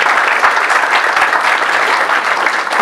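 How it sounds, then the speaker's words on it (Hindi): An audience applauding during an Urdu church sermon on New Year's Eve, with loud, steady clapping from many hands filling the whole moment and no talking. "इनके लिए भी तालियां बजा दें।"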